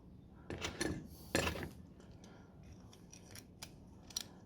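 Scissors snip a rubber exterior door-handle gasket for a Ford, giving a few faint, close crunching cuts followed by quieter light clicks and handling noises.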